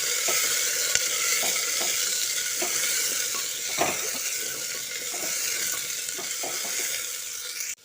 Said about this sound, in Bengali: কুচিয়ে রাখা আলুটা দিয়ে দিচ্ছি আলুটা দিয়ে একটু ভেজে নিতে হবে